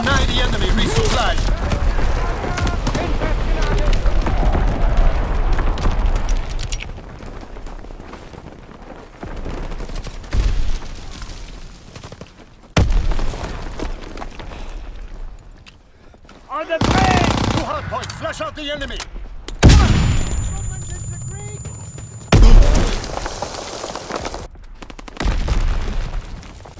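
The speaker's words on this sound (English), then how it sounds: "Incoming enemy artillery. Get to cover." Loud video game battle with repeated artillery booms, explosions and bursts of machine-gun fire, broken by short quiet gaps, while a game voice announces alerts over the combat.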